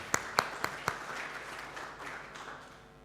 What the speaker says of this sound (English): So a little applause for Luca